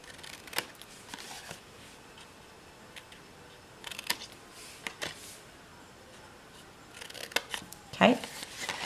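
Scissors cut paper panels for a small pop-up treat box in sparse, crisp snips and rustles spread over several seconds, close and moderately loud against low room noise, with a sharper cluster of cuts near the end.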